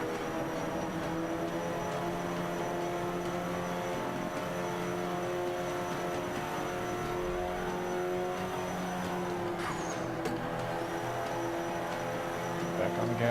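A Ferrari 458 Spider engine in Forza 5 holds a steady, loud, harmonic drone while accelerating on track, with a voice speaking faintly beneath it.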